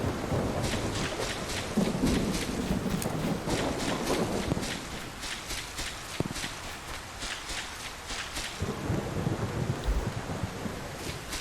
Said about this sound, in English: Maybe sleep through the storm.